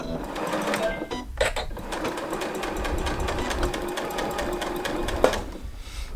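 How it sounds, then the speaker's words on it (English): A sewing machine stitches the seam of a scrap-fabric bookmark, running in a fast, steady mechanical chatter with a brief pause partway through and a click near the end, close and loud, with no talking. "So let's take it to the sewing machine."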